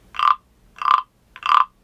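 Three loud, close frog croaks, each a short raspy call, evenly spaced with brief silences between.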